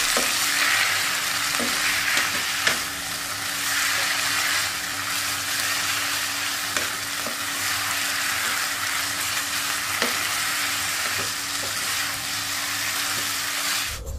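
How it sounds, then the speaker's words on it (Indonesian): Enoki mushrooms stir-fried in a pan, a loud continuous sizzle with a few faint clicks of stirring, steady throughout and no voices. "Mau masukkan jamur enoki 1 bungkus. Dan kita aduk."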